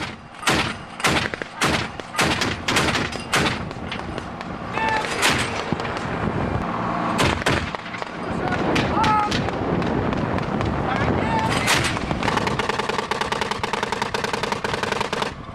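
An army battle group firing weapons on a range in Iraq: rapid bursts and sharp single shots, loud and repeated, with voices speaking between the volleys.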